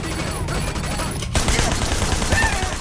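Gunfire in the video game Sleeping Dogs, several rapid overlapping shots that swell louder partway through, heard close and dense with no clear talk over them.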